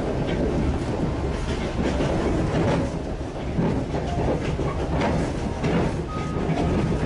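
A train rolling on the rails of the Bolivian line out of Santa Cruz, heard from on board as a loud, steady rumble with rattling wagons and a rhythmic clatter running through the whole stretch.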